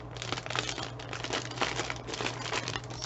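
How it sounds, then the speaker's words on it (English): Washi tape torn from the roll and pressed onto a ring-bound shaker cover, giving a continuous close crinkling and tearing with a steady low hum underneath. "I'm going to tape this up"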